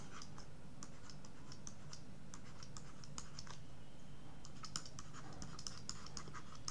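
Python code being typed on a computer keyboard, with steady bursts of light key clicks, close and fairly quiet, with no voices.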